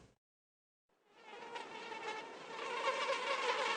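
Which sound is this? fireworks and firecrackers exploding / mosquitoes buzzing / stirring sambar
mosquitoes buzzing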